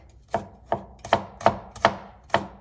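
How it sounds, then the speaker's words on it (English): Six crisp knife strokes slicing garlic on a cutting board for a bok choy and oyster mushroom stir fry, evenly spaced and close, with no talk over them. "slice the garlic."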